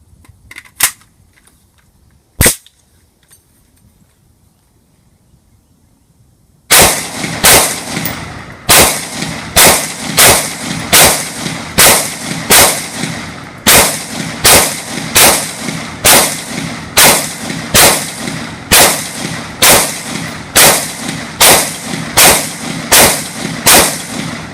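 POF USA Puritan rifle with a Tango Down magazine fired at an outdoor range: a few scattered shots, a pause, then a long steady series of loud, sharp reports at roughly one per second.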